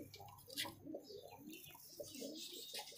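A desi high-flying pigeon gives soft, low, repeated coos, faint and close, with no talk.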